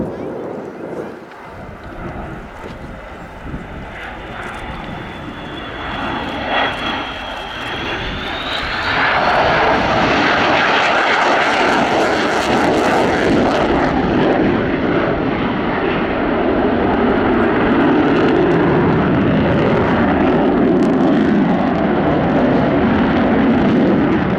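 A Sukhoi Su-27 P1M Flanker fighter jet flies a display, its engine roar rising from a distant whine to a loud, sustained, close thunder with a pitch sweep as it passes.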